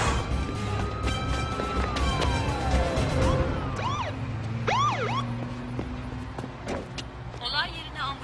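Police and ambulance sirens arriving at a scene in a dubbed thriller film, a steady wail plus rising and falling yelps over engine rumble and street noise, with voices talking underneath.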